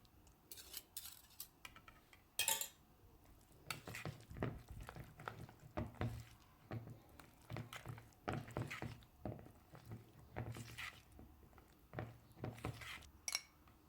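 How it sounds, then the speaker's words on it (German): A whisk stirs butter into chocolate ganache in a bowl, giving quiet, repeated clinks and taps of metal against the dish in an uneven rhythm, close but faint. "Die wird dann nochmal gut mit reingerührt mit dem Schneebesen"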